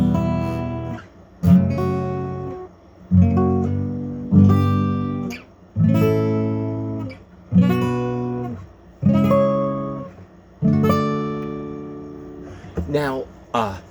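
A chord built on each note of a major scale, played one after another as eight evenly spaced stepping chords with clear gaps between them, rising through the scale on a keyboard with no voice over them.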